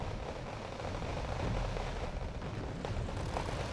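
Napalm strike in Wargame Red Dragon, a broad rumbling roar of fire and blast that fills the whole stretch, steady and loud without a sharp single bang, with no talk over it.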